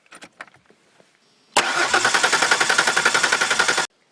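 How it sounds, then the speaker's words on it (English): A Ford Ranger engine cranks without catching, a loud, fast, steady rhythmic churning that lasts about two seconds and stops abruptly, after a few faint clicks. "So she's still getting fuel up to the motor, just cranking, no start."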